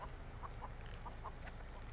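A chicken clucks in The Texas Chainsaw Massacre game, a handful of soft, short clucks spaced irregularly, faint and distant over a low steady background hum.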